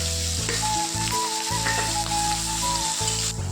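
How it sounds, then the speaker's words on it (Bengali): Chopped garlic, onion and chili crackle and sizzle in hot oil, a dense, steady frying hiss over a low hum, with a faint thin whistle running through it. "আর ওই তেলেই দিয়ে দেব কুচনো রসুন, এবারে দিয়ে দেব পেঁয়াজ আর লঙ্কা কুচানো"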